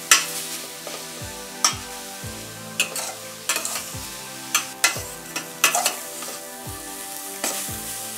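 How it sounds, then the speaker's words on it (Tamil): Grated carrots sauté in a heavy-bottomed pan for carrot halwa, a soft sizzle under repeated sharp scrapes and knocks of a spoon against the pan, roughly once a second, close and clear. "கேரட்டோட கலர் வர்ற வரைக்கும் வதக்கிக்கிட்டே இருக்கணும்"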